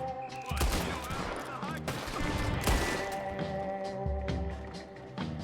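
Video game gunfire in Red Dead Redemption 2: repeated sharp gunshots and bursts of shooting crack close by over several seconds, mixed with game ambience and musical tones.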